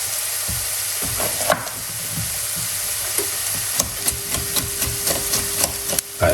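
Peppers stir-frying in a pan for cauliflower fried rice, a steady sizzle broken by repeated scraping and knocks of a utensil against the pan, close and without talk.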